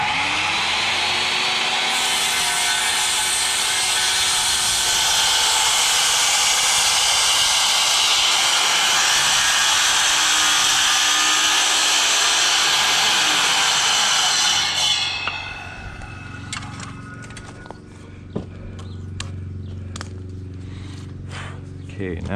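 A power saw cuts through wood with a loud, sustained whining buzz for about fifteen seconds, then stops, followed by quieter handling clatter and a voice speaking.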